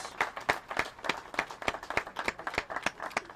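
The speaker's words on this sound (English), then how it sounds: "Let's give a round of applause for Uncome" A modest group applauds at a city press announcement on a safer-city initiative with the mayor and non-profit partners, individual claps distinct and loosely rhythmic rather than a dense roar.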